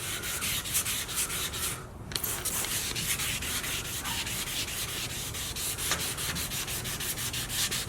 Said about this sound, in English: So these are all the areas we still have to continue sanding. I'm gonna try to sand most of this out.